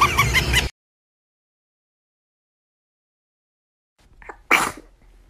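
A single loud, sharp sneeze bursts out after a stretch of silence, close by, preceded by a brief clip of talk.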